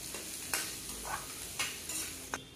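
Onions frying in oil in a pan for North Karnataka-style onion churumuri, a soft steady sizzle with a few sharper stirring scrapes at intervals, close by and fairly quiet, with no talking.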